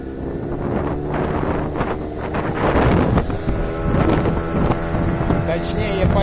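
An inflatable Stealth boat with a 15 hp outboard motor runs on the Kyiv reservoir, a steady loud engine drone mixed with heavy wind buffeting the microphone, no talking.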